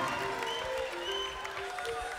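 Applause and cheering from a large concert crowd at the Zénith in Paris during a live raï show, a dense continuous wash of clapping with some background voices throughout.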